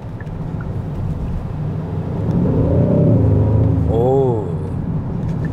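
Hyundai Sonata N Line engine in sport drive mode, a steady low engine rumble that swells louder in the middle as it revs, with a brief rising and falling whine near the end, heard from inside the car.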